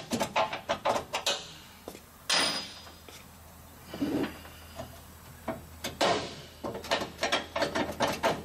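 A ratchet drives bolts out of a G56 Dodge transmission during a dual-disc clutch install, sharp close clicking bursts repeating in quick runs with brief pauses and a few louder clanks.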